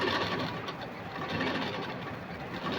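A sewing machine stitches a straight quarter-inch seam through lining cloth for a puff sleeve, whirring continuously and fairly loud.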